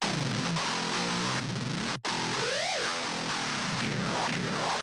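Harsh, buzzing distorted electric guitar played through an amp with the speaker cabinet switched off, with a thin, fizzy top end, chords and sliding notes played continuously, loud and close, with one brief cut.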